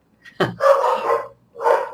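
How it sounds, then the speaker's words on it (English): Dogs barking at night at a home: a sharp bark followed by a drawn-out howling bark and another after a short pause, fairly close and alone without talk. "forgive my dogs, this time of the night they will bark"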